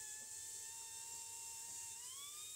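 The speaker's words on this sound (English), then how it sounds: "We're going to use a wire wheel, a flapper, as you'll see here, and prepare it to drop the stator in." High, steady whine of a rotary tool with a wire wheel and flapper wheel cleaning a pump stator housing, faint and continuous with a slight pitch drift near the end.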